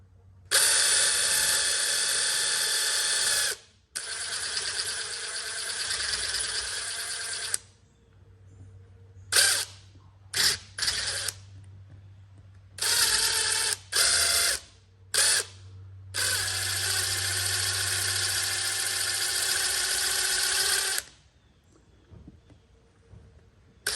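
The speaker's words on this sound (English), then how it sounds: "I got to drill the old plug out first." A power drill bores an old plug out of a punctured rear tire tread, running in several bursts: two long whining runs, a cluster of short stuttering spurts, then another long run, with quiet pauses between.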